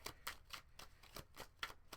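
A deck of tarot cards is shuffled by hand in quick, crisp riffles, about eight sharp flutters spaced irregularly across two seconds, close and quiet with no talking.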